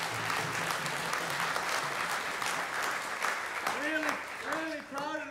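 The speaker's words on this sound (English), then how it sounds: "Let's have a round of applause for these youth up here." An audience at a Syeyutsus celebration gives a sustained round of dense applause, steady and fairly loud, with a voice starting to speak as the clapping fades near the end.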